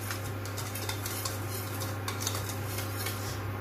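Sugar and milk mixed in a bowl for cannelé batter, with quick metallic clinks and scrapes of a utensil against the bowl over a low steady hum, fairly faint.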